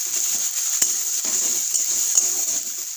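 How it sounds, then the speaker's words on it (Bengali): Ginger-garlic paste and turmeric sautéing in a pan for a steamed lote fish dish, giving a steady bright sizzle with occasional scraping stir clicks, close up and without voices. "1 চামচ আদা রসুন পেস্ট, হলুদ গুঁড়ো 1 চামচ দিয়ে ভালো করে কষিয়ে নেব।"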